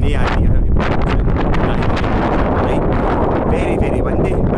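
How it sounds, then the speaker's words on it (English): Strong wind buffets the microphone with a constant rumbling roar, loud and close, with gusty bursts throughout. "Very, very windy"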